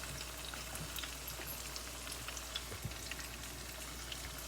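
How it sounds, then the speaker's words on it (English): Chicken cutlets frying in a pan give a steady, dense sizzle with fine crackling pops throughout, close and even, with no voices. "Frying up."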